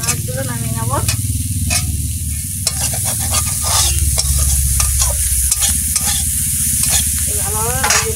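Prawns frying in a pan of hot oil, a loud close sizzle with repeated scraping and tapping stirs, no talk.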